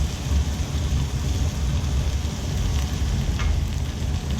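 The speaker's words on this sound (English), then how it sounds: "now we want to add the tomatoes and the parsley." Tomatoes and parsley go into a sizzling Neapolitan ragu on the stovetop and get stirred, giving a steady, close frying hiss with soft low rumble and no talking.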